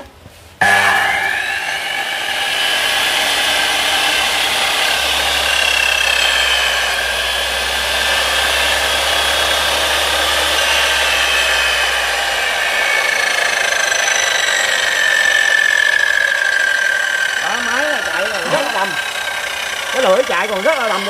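A used Japanese metal-cutting saw's motor starts abruptly, then runs with a loud, steady whirring hum that holds for about twenty seconds, its tone wavering slightly near the end.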